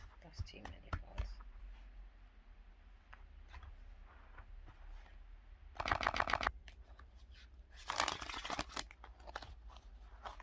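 An oracle card deck is shuffled close by: a few quick riffles and taps, then two dense bursts of fluttering card riffles, with quiet moments between.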